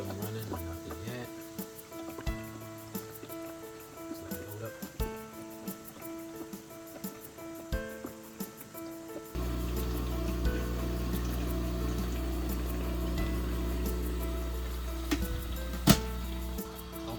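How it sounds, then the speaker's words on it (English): Water pours into a bucket while an Alien Hydro RDWC six-pot hydroponic system is being set up. Quieter clanks and trickling give way to a loud, steady rushing fill that continues to the end. "Just letting the bucket fill."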